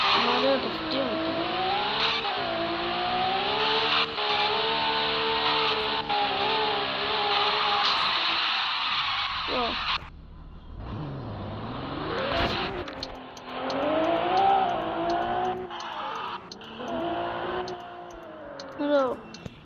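Cars drifting in circles, engines revving hard and loud with rising and falling pitch as they swing around. The roar drops briefly midway, then surges again, with a few sharp bursts near the end.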